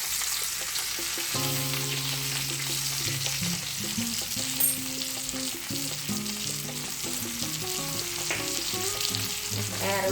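Lamb loin chops fry in a pan with a steady, close sizzle that runs unbroken throughout, alongside tonal background music and no talking.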